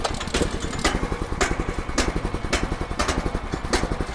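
A Split-Fire 4090 wood chipper's small engine runs on choke after starting, a steady rhythmic chugging idle with regular louder pulses about every half second, moderately distant and faint, with no talking.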